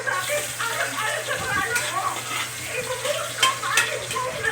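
Garlic sautéing in a hot kawali for Bicol-style chicken kalderita gives a soft, steady sizzle with light stirring scrapes over a low background hum.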